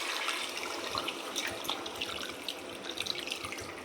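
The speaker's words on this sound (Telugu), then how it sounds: "మనం తీసి పెట్టుకున్న చింతపండు రసాన్ని దీనిలో వేసుకోవాలండి" Tamarind juice pours into a pot of fish curry in a close, continuous splashing trickle with small bubbling spatters and no voices.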